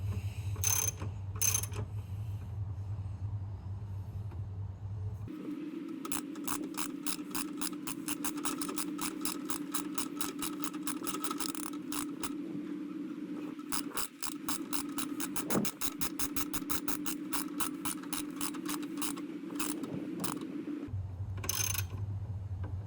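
A ratchet wrench with an Allen bit tightens bolts on a cold air intake being fitted to a VT, VX or VY Commodore. Rapid, even clicks continue for long stretches, with short pauses at the start and end.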